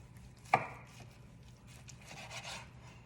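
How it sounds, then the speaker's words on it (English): A knife slicing through rolled food with rice on a board, one sharp cut followed by softer scraping and rubbing strokes, quiet and close. "let's slice on the end first"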